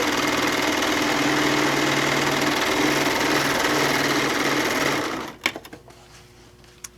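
Serger overlock machine stitching down the side of a fat-quarter fabric tote bag, a steady rapid mechanical whir that stops abruptly, followed by a few faint handling clicks.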